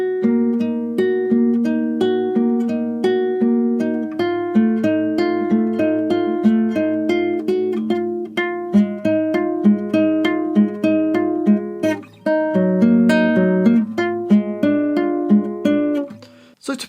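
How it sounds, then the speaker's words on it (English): The opening line of a song from Far Cry 6 played on Spanish guitar: bright plucked notes in a flowing melody over held bass notes, steady and close, with no talking. "It's a beautiful little sort of a Spanish guitar part."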